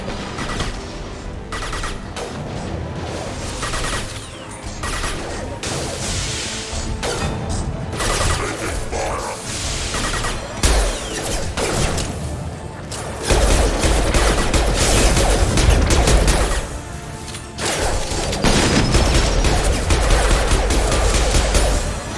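Sustained firefight in the Mass Effect 2 sci-fi shooter, with dense bursts of rapid gunfire and heavy impacts rolling continuously for over twenty seconds, loud and chaotic, growing heavier near the end.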